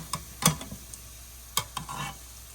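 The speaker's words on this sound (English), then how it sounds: "So the onion fritters are all done frying. I'm going to remove them." Onion fritters (pakoda) frying in oil, with a faint sizzle and a few quiet clinks and stirring taps near the pan.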